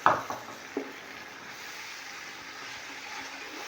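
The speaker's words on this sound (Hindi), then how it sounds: "और इसे अच्छी तरीके से इसका मसाले को भून लेते हैं" Masala with green chili and three medium tomatoes, for a degi chana pulao, frying and being stirred in a pot. A couple of quick clanks open the clip, then a steady sizzle continues at moderate level with no talk.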